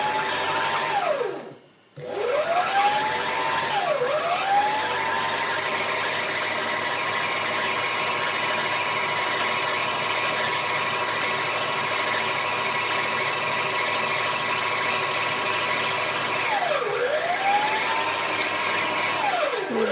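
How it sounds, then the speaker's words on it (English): A Janome 725s sewing machine winds a bobbin with a loud, steady motor whir that rises as it spins up and holds an even pitch, briefly stopping and restarting near the start and again toward the end. "foot on your pedal and you can continue winding"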